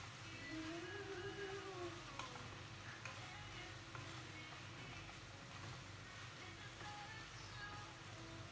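Soy sauce sizzling faintly in a pan with chicken sisig, a steady low crackle and hiss with light stirring scrapes throughout.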